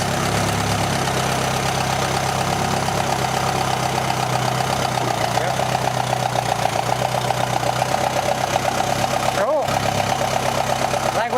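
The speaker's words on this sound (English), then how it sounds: "We definitely can just drive it with one engine." A rare Allis Chalmers twin-engine tractor, one engine missing a piston, idles on a single engine with a steady, rough low rumble and faint knocking, while people briefly talk nearby.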